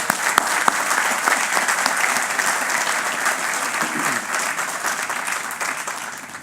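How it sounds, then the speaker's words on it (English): A large audience at a Department of Corrections fiftieth anniversary ceremony gives a sustained round of applause, dense, loud clapping that holds steady throughout with a couple of sharp louder claps near the start. "Let's give them all a round of applause."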